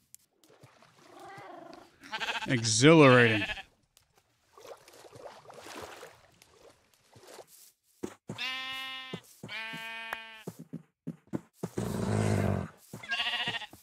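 Sheep bleating in the video game Minecraft: several loud, wavering bleats come in separate bursts, one long quavering call followed by shorter repeated calls, with brief spoken words in between.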